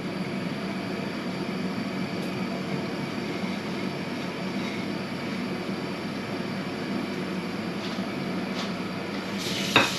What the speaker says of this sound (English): it's starting to sizzle.